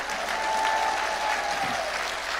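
A large audience at a church lecture on Korean modern history breaks into sustained, dense clapping, steady and fairly loud across the whole stretch.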